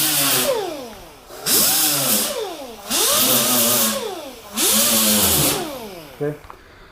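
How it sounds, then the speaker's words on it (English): Handheld grinder tilted at about 45 degrees deburring the edge of a metal panel before primer, running in three loud bursts with a rising and falling whine between quieter spin-down gaps. "I'm taking the grinder and I'm tipping it at about a 45-degree angle"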